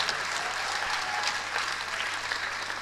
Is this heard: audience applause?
yes